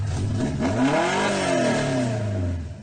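A Tofaş car fitted with a remote-controlled exhaust revs hard once, the engine note climbing and then falling away, loud and close in a single burst lasting under three seconds.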